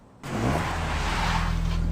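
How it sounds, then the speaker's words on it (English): Toyota AE86 engine in an anime mountain-road race scene bursts in suddenly and revs hard and steady, a loud close throaty drone with buzzy harmonics that holds until the end. "The 8-6 sounds different than last time."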